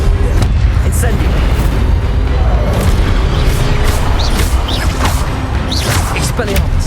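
Incendio fire spells cast in the Hogwarts Legacy video game burst out as repeated booming, crackling blasts over dense, continuous game noise, loud and close throughout.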